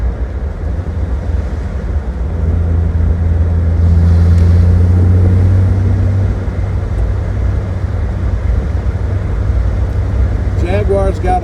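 A classic Jaguar XKE sports car drives with its top down, its engine a steady low drone with strong wind rush, swelling slightly midway and then settling, with brief voice-like sounds near the end.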